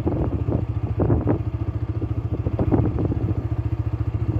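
Apache 4V 160 motorcycle engine pulling uphill in third gear, a steady low chugging drone with throbbing pulses and some rattle, close and continuous throughout.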